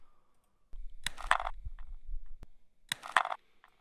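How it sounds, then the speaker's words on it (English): Two bursts of crinkling, creaking aluminum as a foot lifts off a crushed can, close and fairly loud, separated by a brief low rumble. "the sound of me picking up my foot after I stomp on one of the cans"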